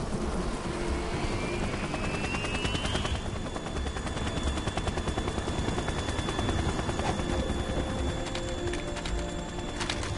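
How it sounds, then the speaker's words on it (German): Helicopter in Metal Gear Solid 2 on a bridge, a loud continuous rotor chop with dense rapid thumping and a sweeping whine early on, steady and close throughout with no talk. "Helikopter."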